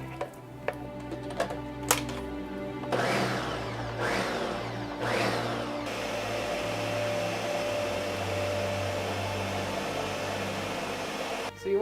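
A food processor whirs steadily as chicken liver pâté is blended with cold butter, with a few short bursts and clatters before settling into a long, even, close-up drone.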